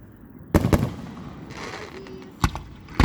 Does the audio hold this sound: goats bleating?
no